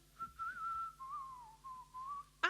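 A person whistles a sustained, wavering melody of a few long notes, clear and close, during a live-streamed ukulele lesson on a song, ending with a sharp burst.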